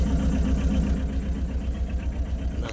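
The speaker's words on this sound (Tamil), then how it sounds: "நான் வண்டி ஓட்டிக்கிருக்கேன்." Engine of a milk delivery vehicle running while driving, a steady pulsing low drone with a regular throbbing rhythm, close and continuous, with no talking.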